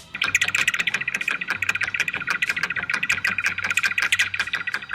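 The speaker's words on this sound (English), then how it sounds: "Here's the sound of a flying steamer duck." A flying steamer duck (Tachyeres patachonicus) gives a rapid series of sharp, rhythmic calls, dense and fairly loud, repeating steadily without pause and heard without any talking.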